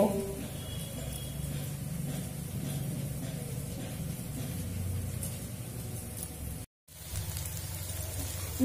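Chopped onions sizzle steadily as they fry in a pan, a dense, even crackle that carries on with no talk and drops out for a brief moment before resuming.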